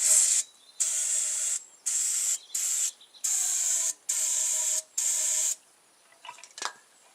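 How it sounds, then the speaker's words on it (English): Cleaner sprayed onto the fork lowers of a Carrera Hellcat mountain bike with a Suntour XCM fork, in seven short, hissing spray bursts of varying length, close up, followed by quiet handling noises. "I'll give them a spray of the same cleaner."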